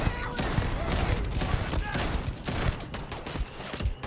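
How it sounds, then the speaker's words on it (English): Dense shotgun fire in the space game Starfield, with sharp blasts landing in quick, overlapping succession for several seconds, loud and close with almost no pause between shots. "Why are these shotguns so weak?"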